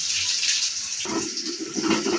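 Water pours into a cooking pot in a home kitchen, a close, splashy gush that shifts in pitch midway as the pot fills, with no talk.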